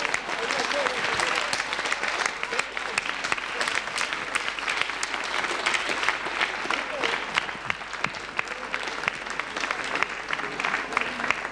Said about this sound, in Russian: Взрыв аплодисментов!